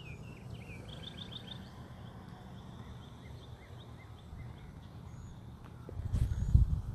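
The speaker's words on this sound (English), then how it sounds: "You hear the birds chirping." Faint birds chirp in short repeated trills against a quiet outdoor hush, with a low thump of handling noise near the end.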